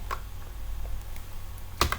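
A couple of faint, isolated keyboard clicks over a steady low hum, ending with one sharper key press like hitting enter; close but quiet, with no talking.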